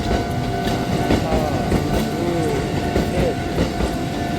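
An above-ground electric train rolls past in the small city of Takamatsu, a steady rumble with faint rhythmic clatter of wheels over rail joints, sustained and fairly close throughout.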